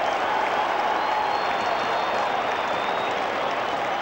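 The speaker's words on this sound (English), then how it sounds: "Crowd likes it." A large crowd at a 1997 Australian football match between Collingwood and St Kilda cheers and applauds a goal, producing a dense, loud, continuous roar of clapping and voices that fills the whole stretch.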